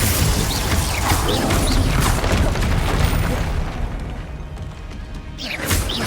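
A Confringo spell blast in the video game Hogwarts Legacy: loud, booming, crashing impacts with rumbling debris, fading briefly before a fresh burst near the end.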